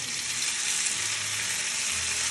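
Parboiled, smallish cubed potatoes frying in oil on a Kamado Joe Big Joe grill, a steady close hiss and sizzle that runs unbroken throughout without any talk.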